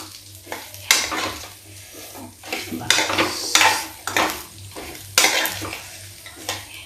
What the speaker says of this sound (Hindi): लेकिन फिर भी हम हल्का सा फ्राई कर देंगे।